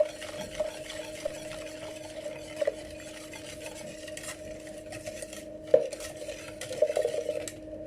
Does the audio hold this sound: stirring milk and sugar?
yes